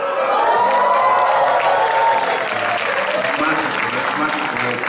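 Applause and cheering from a tribute-concert audience for a performer, a dense, loud wash of clapping with shouts that holds steady throughout.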